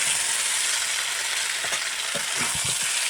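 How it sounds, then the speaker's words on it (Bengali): Chicken pieces fried and stirred for chicken kosha over a wood fire produce a continuous loud sizzle, with a few soft scraping stir strokes near the end and no voices. "মাংসগুলো আমি খুব ভালোভাবে কষিয়ে নিচ্ছি।"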